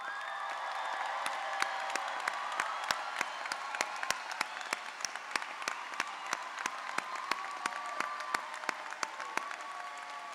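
At a business school graduation ceremony, the audience claps for first-generation college graduates. Sustained crowd applause is topped by one sharp, close clapper striking at an even beat, with faint cheering mixed in.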